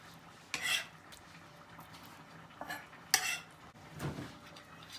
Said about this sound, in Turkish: Hemen yoğurdumuzun içine atalım. Yoğurdumuzla birleştirelim patlıcanlarımızı.